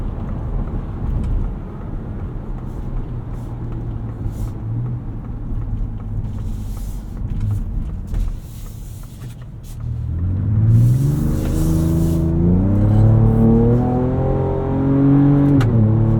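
A 2024 Ford Ranger Raptor's engine rumbles steadily in sport mode, then revs hard in rising and falling surges while cornering on a low-grip surface with traction control on.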